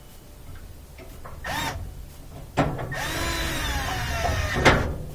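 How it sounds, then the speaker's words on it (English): A power driver runs screws into the gas valve of an LG gas dryer during a valve replacement, heard close as short whirring bursts that rise and fall in pitch, followed by a longer sustained whine. "And we're going to add those screws in there."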